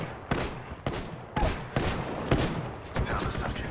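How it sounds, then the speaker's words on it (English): Rapid gunfire with about seven sharp, loud shots spaced irregularly over a few seconds, each followed by a brief decay, against a steady, noisy background. "Firing on subjects."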